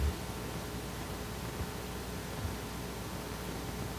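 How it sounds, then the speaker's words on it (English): Broadband white-noise hiss from a Python-generated tone that was written to a WAV file incorrectly, steady and unbroken throughout with no trace of a pitched tone. "It sounded more like white noise."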